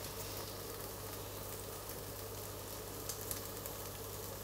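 Pancake batter frying in a pan gives a steady, even sizzle that holds through the whole stretch at moderate volume, with no voices over it.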